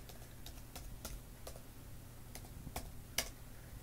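Password typed on a Surface Pro 3 keyboard: faint, sparse key clicks at an uneven pace, ending with one sharper tap, in a quiet room.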